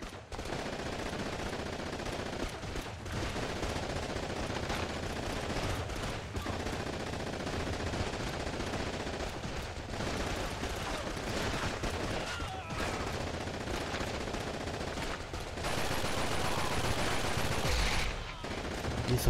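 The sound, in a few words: MG42 machine gun nest firing in Call of Duty 2 video game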